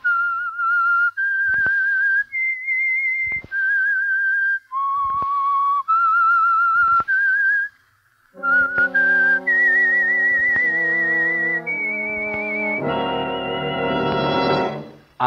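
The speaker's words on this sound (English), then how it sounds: "That whistle is your signal for the Signal Oil Program," A lone whistler carries the eerie theme signal of the old-time radio mystery drama The Whistler. The tune has held, gliding notes, followed by a rising orchestral passage that builds underneath in the second half.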